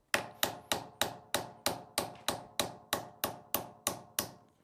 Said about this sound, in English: I will angle it down roughly 45 degrees as I hit it with the hammer.